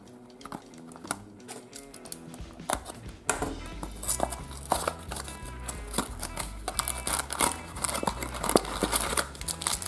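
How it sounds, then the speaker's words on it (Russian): Close crinkling and tearing of plastic packaging as a Ladybug and Cat Noir sweet surprise box is opened, with rustles and small clicks, a steady rhythmic music track underneath, no speech. "Давайте откроем Свитбокс, Леди Баг и Супер Кот"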